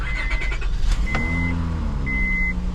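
A used car, an up-north vehicle with some rust, cranks over and settles into a steady idle, its engine droning loud and close with a couple of high electronic chimes sounding over it.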